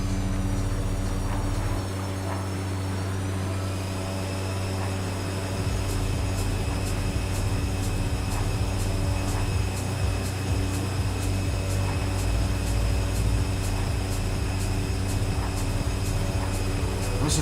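An aircraft engine in Microsoft Flight Simulator drones continuously, its layered tones holding level and then shifting partway through into a rapid, regular ticking pulse over the hum, loud and close with no talking.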